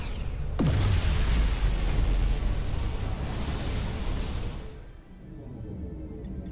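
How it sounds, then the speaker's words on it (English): A dilithium crystal explosion in the Star Trek Resurgence video game erupts as a sudden deep boom, then a sustained roaring rumble that fades away after several seconds. "Dilithium explosion!"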